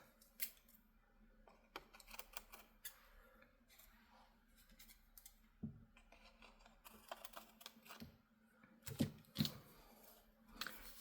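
Paper being trimmed with scissors for a Celtic-themed junk journal, a scattering of quiet, uneven snips and paper rustles at close range, with soft handling noises between cuts.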